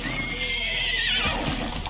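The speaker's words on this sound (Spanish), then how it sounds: "En cuanto a sonidos del rótulo, también tenemos una novedad, y de nuevo se tratará de un caballo" A horse neighs as a sign sound in the video game Need for Speed Unbound: a single clear, drawn-out whinny, loud and close, with no talking over it.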